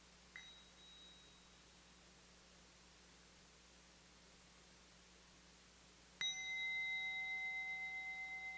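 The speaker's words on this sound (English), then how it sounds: "here comes the sound of the bell" A meditation bell is struck once during a family Dharma retreat, its clear ringing tone rising after a long quiet hiss and sustaining with a slow, gentle shimmer as it fades.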